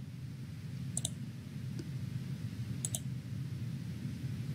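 Computer mouse clicks, two soft double-clicks and a faint single click, sounding over a steady low hum of room noise.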